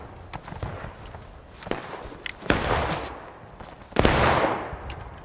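Video game battle gunfire from the Outskirts map of War of Brothers, with sharp rifle shots and bursts cracking at irregular intervals, some near and loud, some distant, with echoing tails.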